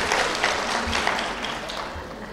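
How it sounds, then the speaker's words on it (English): Applause from a large audience at a 2018 high school graduation ceremony, a dense wash of clapping at moderate loudness, steady throughout. "Give yourselves a round of applause."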